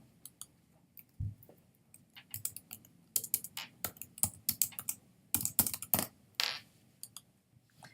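Typing on a computer keyboard up close, with irregular bursts of crisp key clicks and clacks, a few louder thumps, and short pauses between runs, no talking.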